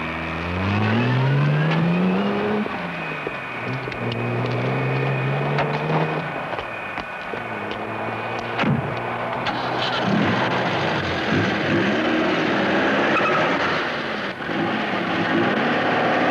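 A car engine revs and shifts through the gears as it is driven, rising and falling in pitch with whirring and passing-traffic sounds, loud and continuous without speech.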